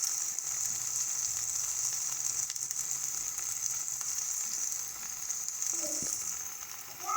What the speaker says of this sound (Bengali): দিয়ে ভালো করে এটাকে মিশিয়ে নেব